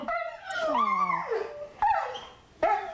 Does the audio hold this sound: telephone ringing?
no